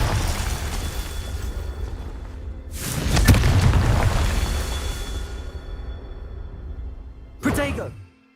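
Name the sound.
Confringo explosion spell in the Hogwarts Legacy video game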